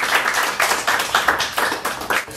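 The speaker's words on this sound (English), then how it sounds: "let's give a round of applause" Brief rhythmic clapping from a small group at a poetry reading, steady pulses of hand claps without cheering, lasting a couple of seconds.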